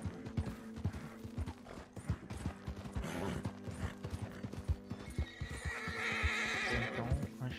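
Horse whinnies loudly and hooves clip-clop in Red Dead Redemption 2, with a long neigh near the end over steady hoofbeats and some mechanical clatter in the background.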